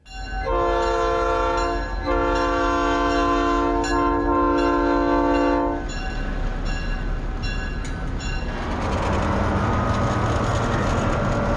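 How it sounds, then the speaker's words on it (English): A heritage excursion train in Texas sounds its chorded horn in long sustained blasts, then rumbles and squeals loudly as the cars roll past close by, pulling into a station. "when the GVRR comes back from an afternoon excursion, there's plenty of great spots to watch it pull in"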